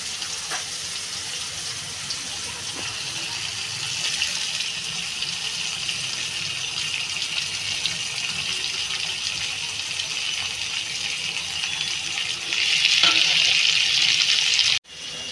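Water poured into a pan of spices while cooking steamed hilsa fish with mustard and poppy seed, a steady near trickle that swells into a louder gush near the end before stopping abruptly.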